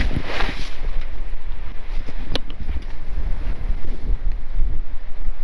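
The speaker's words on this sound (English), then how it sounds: "it's getting super windy out here." Strong wind roaring steadily at a campsite beside a lifted Subaru with an awning and tent, with gusty rumbling microphone buffeting throughout, loud and continuous, no voices.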